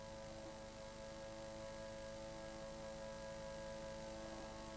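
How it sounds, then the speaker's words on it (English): An overloaded power tool motor stalls and hums, a steady faint electrical drone with strong tonal buzz and no change over the few seconds. "Again, we'll overload the motor of the power tool. The copper wire is apparently unaffected. The motor completely stalled."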